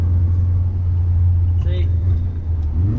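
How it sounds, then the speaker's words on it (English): Manual-transmission car engine held at a steady low drone while rolling through the gears with no clutch, a continuous close rumble with a faint rise near the end. "I'll take my left foot off the clutch, and you can use the throttle and kind of feel your way through the gears."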